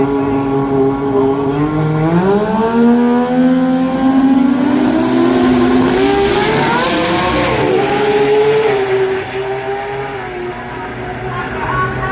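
A four-cylinder turbocharged drag racing car at a drag racing event accelerates hard, its loud engine climbing steeply in pitch through successive revs before fading away toward the end, with faint announcer talk beneath.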